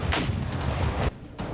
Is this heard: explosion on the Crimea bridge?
yes